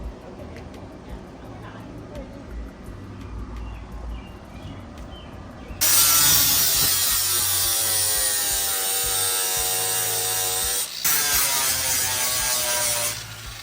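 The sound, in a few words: sanding disc on angle grinder smoothing car firewall metal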